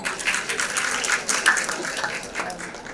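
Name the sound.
applause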